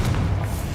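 Confringo explosive spell in Hogwarts Legacy, a short heavy thud with a deep booming low end, loud and close, over in under a second.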